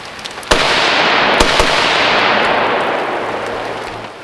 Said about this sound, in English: I'm shooting 223 ball ammo from about 25 yards.